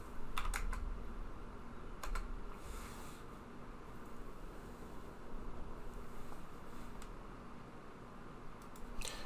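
Keys click on a computer keyboard, including function keys, a few sharp taps at irregular intervals over a steady faint hum of room noise.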